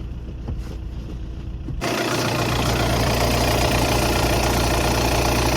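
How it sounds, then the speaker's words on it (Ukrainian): A 2013 Audi A4 B8 2.0 TDI diesel cranks on a cold start and catches, then settles into a loud, steady, rumbling idle that continues evenly to the end. "Ну і ось холодний старт автомобіля"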